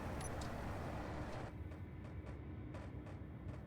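A train in the video game Space Engineers rumbling along in a continuous low roar that is fairly faint, with a few soft clanks over the noise.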